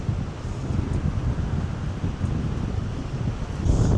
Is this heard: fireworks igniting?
no